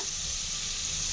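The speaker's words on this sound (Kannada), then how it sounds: "ಟೊಮೊಟೊ ಸ್ವಲ್ಪ ಕುಕ್ ಆಗಂಟ ಫ್ರೈ ಮಾಡ್ಕೊಳ್ತೀನಿ" Chopped tomatoes fry in a hot pan while being cooked down for a green gram gojju, a steady close sizzle hissing continuously with no pauses and no voices.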